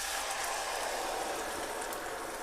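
Tomatoes added to a hot pan for eggs in purgatory, a steady hiss of frying and spitting that holds evenly at close range with no voices.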